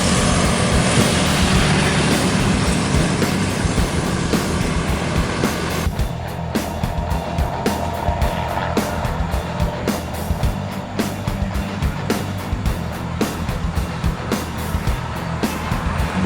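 A Raihan intercity bus bound for Jakarta rumbles past at a departure, a loud, steady engine and road roar that changes character partway through as it moves by, with faint other traffic around.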